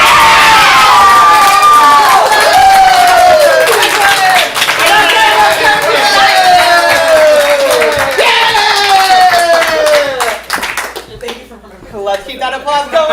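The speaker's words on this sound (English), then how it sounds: "Let's keep that applause going" Loud crowd cheering and shouting at an improv comedy show, excited voices rising and falling, clapping mixed in, fading briefly near the end before swelling again.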